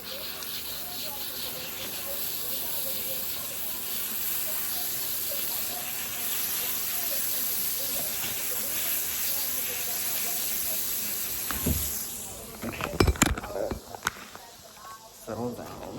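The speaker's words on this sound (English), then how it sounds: "So now I'm gonna put the batter on the skillet, and then we're gonna fry." Batter sizzles and hisses steadily in a hot skillet at home, a close, continuous frying crackle lasting about twelve seconds before clattering kitchen handling noises take over.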